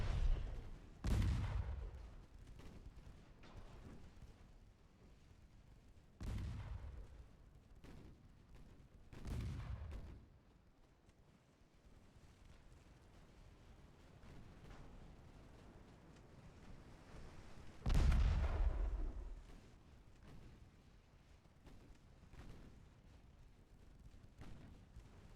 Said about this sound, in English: Some random shots hitting